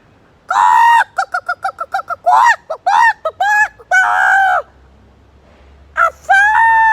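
Chickens in a chicken house raise a frantic racket, a rapid run of loud squawks and clucks broken by sustained crowing calls, close and without talk.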